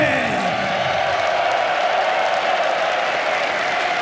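Large esports arena crowd at The International 2024 Dota 2 tournament applauding and cheering steadily throughout, a dense continuous roar of clapping with scattered whoops and a voice briefly audible early on.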